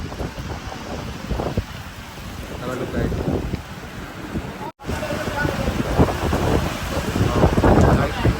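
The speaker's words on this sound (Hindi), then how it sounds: "ठंडी हवा चल रही है और बारिश हो रही है पतली बूंदों वाली" Steady cold wind and a soft patter of fine light rain hiss continuously, heard from a moving train in Bihar, with a brief dropout midway before the noise picks up again.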